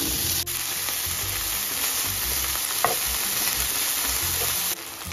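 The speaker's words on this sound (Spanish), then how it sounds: "vamos a agregar una cucharita de aceite de oliva y vamos a empezar sofriendo el tocino." Bacon sautéing in a spoonful of olive oil in a frying pan over medium heat, a steady close sizzle and crackle with a few brief stirring scrapes, no voices.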